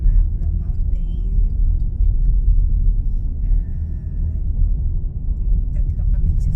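Steady low interior rumble of a car driving on the road to Blue Mountain in a three-vehicle convoy, continuous and moderately loud, with faint voices in the cabin.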